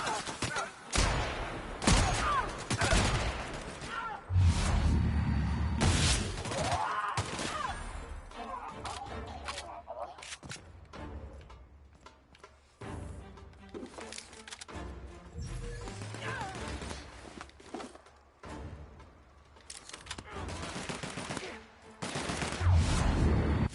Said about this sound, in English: Do not step in front of me while I'm shooting at bad guys.